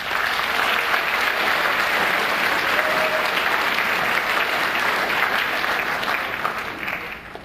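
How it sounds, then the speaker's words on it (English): Sustained applause from an assembled crowd at a school induction ceremony, thick continuous clapping from many people that holds steady and tapers slightly at the very end. "Let's give your parents, guardians, and grandparents a round of applause"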